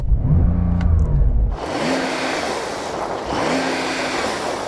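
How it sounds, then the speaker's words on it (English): A Porsche 911 Turbo S engine revving hard, a low rumble followed by repeated rising and falling blips of revs against a soft limiter, loud and close with a rough, hissing roar. "I'm going to rev up this 911 Turbo S"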